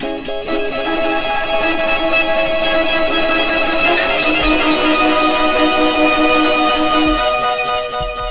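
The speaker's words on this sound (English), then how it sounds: "At a certain point, he also hits his octave pedal an octave up." Electric guitar through an octave pedal set one octave up, playing Ed's part, a shimmering, sustained, bright tone with layered delay trails and steady loudness throughout.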